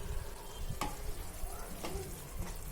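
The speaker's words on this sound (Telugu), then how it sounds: "ఇప్పుడు దీనిలో 4 స్పూన్ల టమోటో కచప్ని కూడా వేసి కొంచెం సేపు కుక్ చేసుకోవాలి." Tomato ketchup mixture cooking in a pan with a close, steady sizzle and bubbling, broken by a few sharp spoon or stirring knocks.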